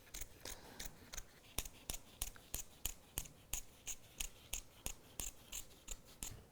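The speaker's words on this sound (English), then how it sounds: "So just try and keep your scissors on the edge." Scissors cut a PVC lampshade panel with quiet, close snips. The crisp clicks come steadily at a regular rhythm, about two to three per second.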